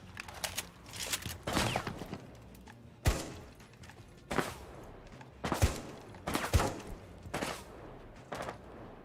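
Shotgun blasts in Rainbow Six Siege, several sharp loud booms spaced a second or two apart, with softer clatter and movement sounds between shots.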